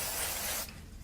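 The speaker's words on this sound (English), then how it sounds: "Use a bit of spray glue on the back of the white one" A short burst of spray glue from an aerosol can during card crafting, a loud close hiss lasting about half a second before cutting off.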